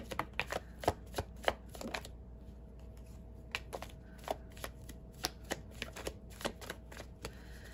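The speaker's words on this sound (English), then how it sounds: "One more shuffle, Aquarius." A tarot card deck is shuffled in quiet, repeated riffles and taps, with sharp, crisp card snaps at an irregular rhythm, close but soft, and no talking.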